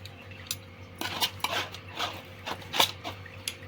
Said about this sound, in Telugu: ఒక స్పూన్ కానీ చాక్ కానీ ఏదో ఒకటి పెట్టేసి ఇలా గీరేసి వస్తే సరిపోయిద్ది